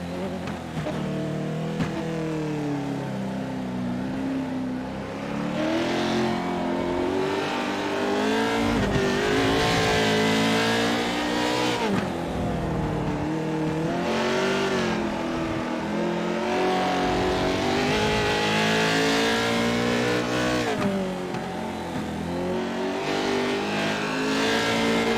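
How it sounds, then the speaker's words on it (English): A race truck in an esports racing game revs hard through corners, its engine note climbing and falling repeatedly as the throttle is eased and pinned, loud and close with occasional tire squeal and no talk. "He's getting back into the throttle about halfway through, but he can't really pin it all the way down until he's on exit"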